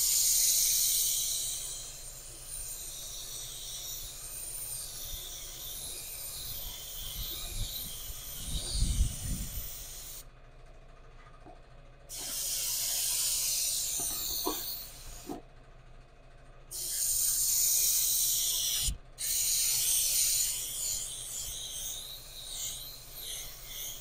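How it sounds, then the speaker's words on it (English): A spray gun spraying House of Kolor candy paint hisses in long bursts separated by short pauses, a steady airy spray near the microphone, with faint low thumps in between. "with the candy, you want to make sure you get a nice even spray, good overlap"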